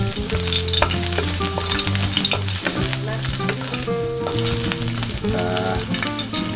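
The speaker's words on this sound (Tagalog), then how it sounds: "Lagay na natin din ang bawang." Minced garlic frying in a small amount of oil in a pan while squid adobo is cooked, giving a steady close sizzle with tonal music playing throughout.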